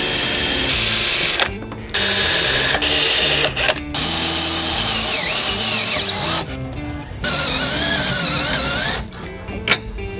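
A spot drill grinds loudly into a hard steel weld on a BMW F30 340i bracket in long whining bursts with brief pauses, the pitch wavering as the bit bites and catches.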